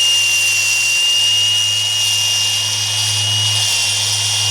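A steady, loud grinding drone of a cavity drill boring through a masonry wall during CCTV installation, continuous and close, with no talking.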